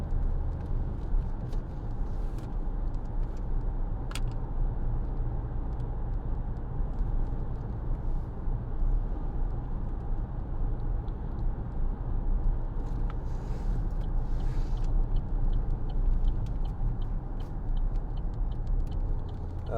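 A 2014 Vauxhall Insignia 2.0 CDTi SRi diesel hatchback cruises along, a steady low engine drone and road roar heard from inside the cabin throughout, with no one speaking.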